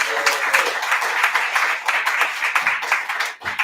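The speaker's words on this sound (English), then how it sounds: "Everybody, please give a large round of applause for Francine Conley." An audience at a poetry and pints reading night gives host Francine Conley a large round of applause, a close, full wash of clapping that holds steady before cutting off abruptly near the end.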